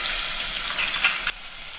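Hot oil sizzles and crackles steadily in a pan, a loud, close frying hiss that suddenly drops to a quieter simmer near the end.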